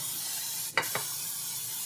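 Two short bursts of cooking spray hissing into a Pyrex baking pan, a quick pair of soft sprays over a faint steady background hiss in a kitchen.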